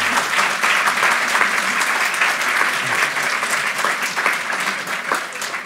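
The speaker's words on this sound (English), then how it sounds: "Let's give our speakers a round of applause." Sustained audience applause fills the room after a panel discussion at an academic event, a dense, steady clapping from a crowd that stays loud and even throughout without any talking over it.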